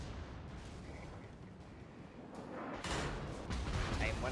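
In World of Warships, a warship's secondary guns fire continuously while fires burn aboard, making a dense rumbling roar of gunfire and explosions that swells louder near the end under a voice.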